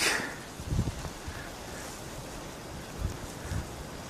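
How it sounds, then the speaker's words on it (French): A wind gust sweeps across an icy camp high on Aconcagua at night, with a tent pitched nearby. A steady, hissing roar is broken by a few low buffeting thumps, and no voices are heard. "Bourrasque."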